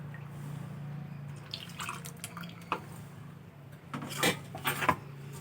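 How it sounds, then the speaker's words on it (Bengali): Water is poured and swished into a mixer grinder jar as it is rinsed, with intermittent splashes and drips over a low steady hum, growing louder and busier toward the end. "এখন মিক্সির জারটা ধুয়ে কিছুটা জল আমি দিয়ে দেব।"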